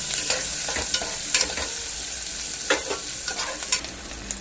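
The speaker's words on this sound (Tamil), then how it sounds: "இந்த ஸ்டேஜில் வந்து நம்ம ஒரு வெங்காயம் நான் சின்ன சின்னதாக கட் பண்ணி வச்சுருக்கேன். அதை வந்து போட்டு நல்லா வதக்கிக்கலாம்." Finely chopped onions being sautéed in a pan for a Tamil kulambu, with a soft continuous sizzle broken by repeated clicks and scrapes of stirring.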